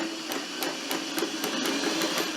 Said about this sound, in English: at this point, I'm going to back stitch